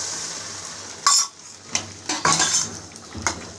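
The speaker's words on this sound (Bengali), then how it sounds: "আগে চামচ কর্নফ্লাওয়ারটা গুলে রেখেছিলাম সেটা মিশিয়ে দিলাম" Chilli paneer with cornflour slurry is stirred in a pan, with a spoon clinking and scraping against the metal in several quick strokes over a low sizzle.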